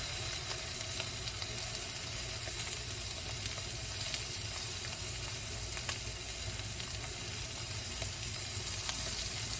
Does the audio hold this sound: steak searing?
yes